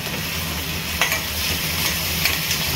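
Crushed chilli and garlic stirred into cooked onion in a pan hiss with a constant moderate sizzle, broken by a few short spatula scrapes; nobody speaks.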